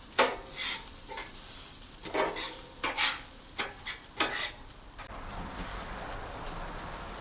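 Egg fried rice being stirred in a hot pan, with repeated scraping strokes over a steady sizzle that carries on alone after the stirring stops.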